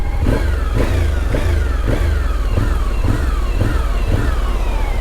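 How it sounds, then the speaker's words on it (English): A Suzuki V-Strom 1050 motorcycle with a gear-driven-cam engine revs repeatedly and loudly up close, about eight rising throttle blips in a steady rhythm over a strong continuous engine drone, with no talk. "I love the sound of gear-driven cams."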